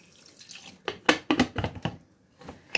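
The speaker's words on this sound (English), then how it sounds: "So just add half a cup of water so that the beef will cook." Half a cup of water is poured over beef curry in a pressure cooker, heard as a few short splashing bursts and gurgles close by, then a brief pause and a final splash.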